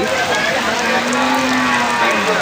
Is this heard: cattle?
yes